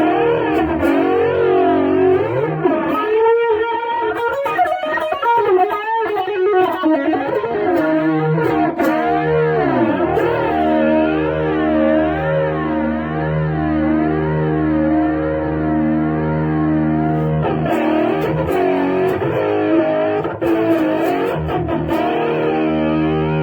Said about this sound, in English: Let's do a little phaser.